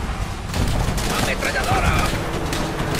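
Dense, continuous gunfire and battle noise from the Call of Duty: World at War video game, with machine gun bursts filling the scene at close range and loud throughout, alongside shouted voices.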